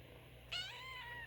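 A single short, high kitten meow, quiet and close, rising then falling over a steady low hum.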